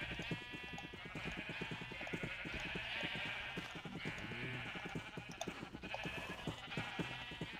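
Minecraft sheep bleat over and over in a loud, busy chorus, overlapping calls layered on a steady background of farm ambience.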